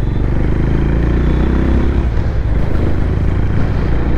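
A Honda Highness CB350 DLX motorcycle being ridden on the highway, its engine and exhaust giving a dense, steady low thump with wind rush, loud and continuous throughout.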